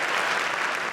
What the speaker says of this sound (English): Big round of applause for Ollie Grantham.